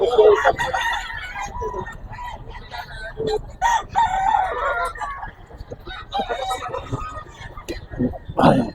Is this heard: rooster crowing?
yes